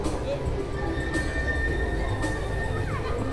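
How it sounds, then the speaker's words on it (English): An amusement park train at Legoland Windsor rumbles steadily at a distance as it departs, with faint wheel squeal and clatter over a low, continuous background hum. "As Legoland Express goes off in the distance."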